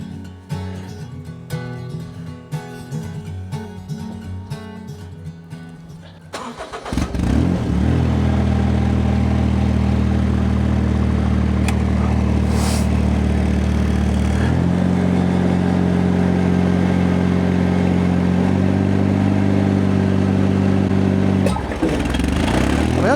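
A Ventrac MZ480 mower engine is pulled over and catches, settling into a loud, steady mid-pitched idle that shifts tone twice. Before it starts there is a quieter, uneven rattling.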